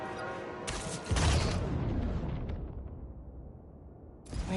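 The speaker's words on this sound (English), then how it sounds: "Playing with fireworks?" Fireworks burst in the Spider-Man 2 video game's city, a loud crackling blast followed by a long fading rumble and a second burst at the end, with no talking.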